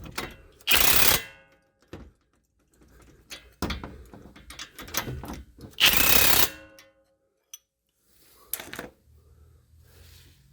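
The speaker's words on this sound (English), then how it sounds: "Now I'm gonna use my electric impact again and get these lower ones snug." An electric impact wrench snugs the lower bolts of a Rough Country N3 steering stabilizer on a 2017 Jeep Wrangler, in two loud rattling bursts of about a second each, with softer clicks and handling noises between them.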